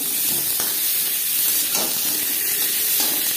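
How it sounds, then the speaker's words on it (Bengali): Raw mango pieces land in hot oil with fried chili and panch phoron, setting off a loud continuous sizzle and hiss. A few soft stirring knocks sound beneath it. "লঙ্কা পাঁচফোড়ন ভেজে নেওয়ার পর দিয়ে দেবো আম।"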